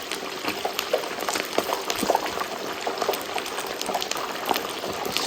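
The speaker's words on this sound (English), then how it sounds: "You hear that boiling oil." Whole turkey lowered slowly into hot oil for deep frying, a loud, dense crackling sizzle and bubbling that stays close and constant throughout.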